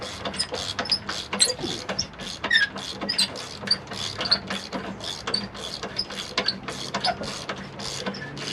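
Rapid clicking of a ratchet wrench working bolts loose on an ASV RCV track assembly, a steady run of close, sharp metallic ticks with brief pauses, no talking.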